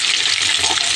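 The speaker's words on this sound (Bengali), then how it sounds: "নুন হলুদ দিয়ে আলু আর পেঁপেটা ভেজে নিচ্ছি" Potatoes and papaya fry in hot oil with salt and turmeric, giving a steady, close, loud sizzle that does not break, with no talking.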